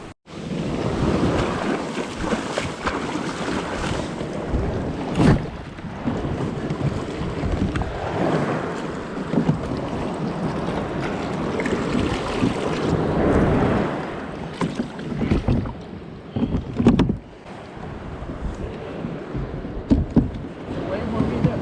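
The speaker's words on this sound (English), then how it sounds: "Sitting on a kayak on the ocean." Ocean waves slosh and splash around a fishing kayak at sea off Costa Rica, steady and close with wind buffeting the microphone and occasional sharper water slaps throughout.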